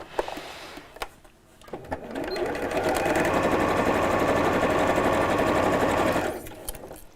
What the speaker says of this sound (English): we'll sew all the way around the side, again removing pins as you sew.